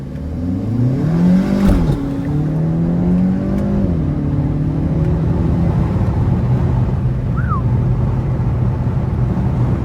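A Kia Forte GT accelerates through paddle-shifted gears, its engine note climbing and then dropping at each shift before settling into a steady drone, loud and close from inside the car, with no talk.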